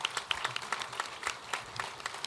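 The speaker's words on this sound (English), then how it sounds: "a big round of applause for all the candidates" Sparse audience clapping for candidates after a gubernatorial debate, a scattered round of hands applauding at moderate distance, uneven and modest in volume.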